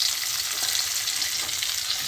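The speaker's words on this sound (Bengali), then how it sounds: "প্রথমে আমি তেলের মধ্যে আলুটা দিয়ে দেবো।" Boiled potato sizzles in hot oil in a wok, a dense, steady close-up hiss with no talk over it.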